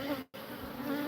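Bees buzz around an open beehive at an out yard, a dense steady drone with a momentary gap partway through. The sound is close and fairly faint.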